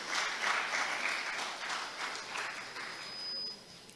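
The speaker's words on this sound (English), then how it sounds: "Please, a round of applause for Dr. Ezenagu one more time." Audience applause for a speaker at an annual lecture, a brisk, fairly light patter of many hands that swells briefly and then thins out toward the end.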